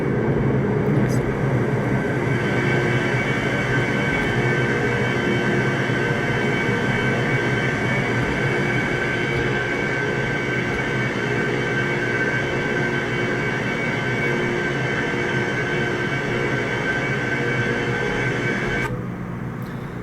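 Airplane taking off and lifting off at about 350 km/h, a steady loud engine roar with a constant high whine and rumbling that holds throughout, then drops slightly near the end.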